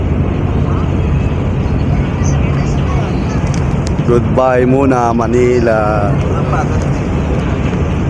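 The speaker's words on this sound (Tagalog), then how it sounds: "Mabilis din pala yung barko tumakbo, no?" The ship MV To Go Masigla pulls away from Manila bound for Bacolod, its engine a steady low drone under wind buffeting the microphone, while people talk nearby.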